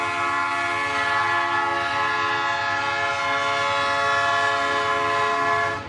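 A freight train hauled by GS-37 locomotives sounds a sustained, loud horn chord close by, holding steadily for several seconds over a low rumble of the moving train.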